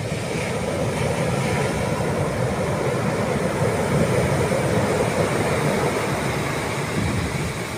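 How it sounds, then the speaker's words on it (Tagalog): Big ocean waves rumbling and crashing at a viewpoint at Dipaculao, a steady, loud, continuous roar of surf breaking close by, with no gaps and no talking. "Dumadagundong na alon."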